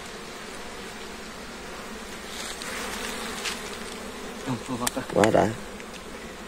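Bees buzz around a wild dwarf honeybee hive outdoors, a constant close hum that swells and grows louder near the end, with a brief spoken exclamation over it.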